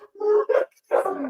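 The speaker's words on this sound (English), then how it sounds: "I'm gonna wait for the dogs to stop barking" Dogs bark and yelp in a short burst of three or so close calls, loud and clear with nothing else around them.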